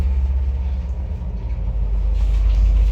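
An old 1991 MLZ elevator in motion during a ride: a steady, heavy low rumble with rattling and mechanical whine, loud and close, continuous throughout, with no voices.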